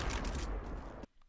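A rapid burst of gunfire from a Counter-Strike game demo crackles loudly for about a second, a dense string of shots that cuts off abruptly into near silence.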